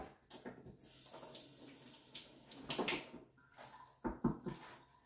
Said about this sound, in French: je vais aller me rincer les doigts